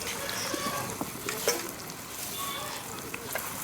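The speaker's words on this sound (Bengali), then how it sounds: "এবার আমি বেগুনিগুলো আস্তে আস্তে ভেজে নিচ্ছি।" Beguni vegetable fritters frying in a pan of oil make a continuous soft sizzle, with occasional light clicks and taps from turning them.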